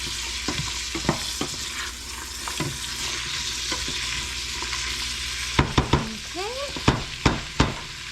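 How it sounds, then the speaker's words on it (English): Potato soup ingredients being stirred in a pot over a soft, steady sizzle, with a spoon scraping and knocking against the pot in sharp, uneven clinks that come faster and louder toward the end. "Give it a good stir around"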